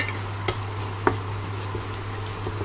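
Kashmiri red chili hits hot oil in a tadka for dal, giving a steady close sizzle. A low hum runs underneath, and a couple of faint spoon or pan clinks sound over it.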